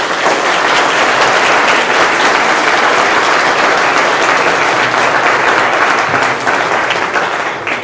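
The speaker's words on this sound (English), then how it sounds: "Can we give them a round of applause?" Sustained, loud applause from a large audience at a Cleveland City Schools candidate forum, steady clapping throughout with a slight fade at the end.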